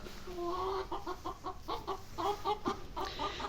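A hen clucks repeatedly in a quick, rhythmic series of short calls, fairly close, on a foggy morning in a village, over a soft background hiss.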